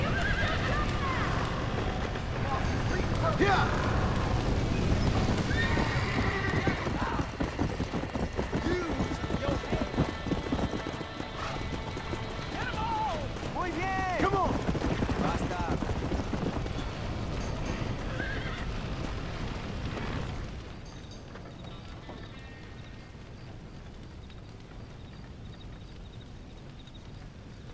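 Horse neighing and whinnying over galloping, clip-clopping hooves in the video game Red Dead Redemption, loud and busy under shouted voices for about twenty seconds before the action drops away to quieter ambience.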